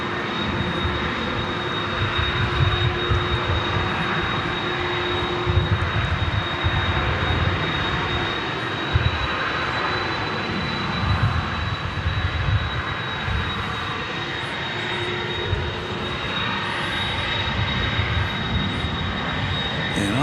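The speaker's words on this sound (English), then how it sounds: "That's the plane that's going to Indianapolis." A jet airliner's engines roar steadily at DFW airport during an evening plane-spotting session, a sustained loud rumble with a high whine running throughout, close and continuous for the whole stretch.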